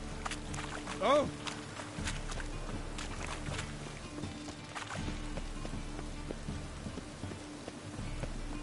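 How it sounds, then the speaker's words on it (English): Rain in the video game Witcher 3 on PS4, a steady hissing downpour throughout with a brief louder thump early on, under in-game character voices. "Raining again."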